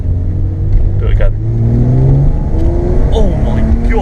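A BMW E36 with a swapped 2.8 M52 straight-six and straight pipe revs hard nearby, its loud, rising engine note climbing and falling over excited shouting voices.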